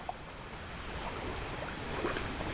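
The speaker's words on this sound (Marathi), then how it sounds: "आपल्याला इथे एक ओढा लागलेला आहे क्रॉस करण्यासाठी" A small stream flows across a rural crossing near a waterfall in Guhagar, giving a faint, steady wash of running water with some wind noise and no talking.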